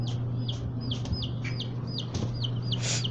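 Young chicks peep repeatedly in a brooding setup, a rapid series of high, rising chirps close by over a constant low electrical hum.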